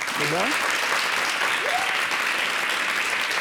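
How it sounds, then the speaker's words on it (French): Audience at a stand-up comedy show semi-final applauds, a steady wash of clapping at moderate distance with voices and whoops rising briefly over it. "cher public, il faut vous applaudir très fort vous-même."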